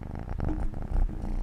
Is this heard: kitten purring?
yes